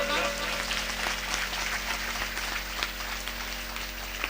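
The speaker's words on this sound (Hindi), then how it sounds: "अभी जोरदार तालियों से महाराज जी का स्वागत आप लोग करें" A large audience at a Bhagavat Katha religious gathering applauds loudly and steadily in a dense, sustained wash of claps heard through a sound system, with a constant electrical hum beneath and faint voices mixed in.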